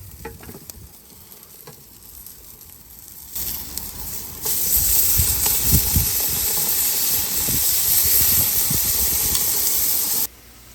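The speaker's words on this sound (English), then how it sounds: "I still like that sizzly sound when you put it on the barbecue" Beyond Meat Italian sausages sizzle on an outdoor barbecue grill, a steady loud hiss that jumps up sharply partway through and holds, with crackling pops underneath, then cuts off abruptly near the end.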